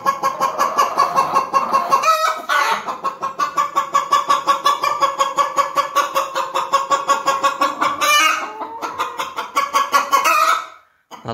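Laying hens at their nest boxes cluck loudly and continuously in quick repeated bursts, with a few higher calls rising above the steady cackling.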